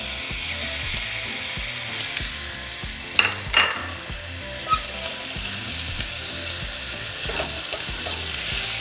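Diced bacon crackles and sizzles steadily in a hot frying pan, a dense continuous fry broken by a few sharper pops and the scrape of stirring.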